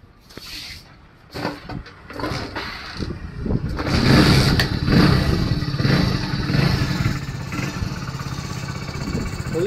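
Hero Splendor BS6 motorcycle started by kick after hot-wiring, a few clattering kicks followed by the single-cylinder engine catching and idling steadily with a loud, fast putter.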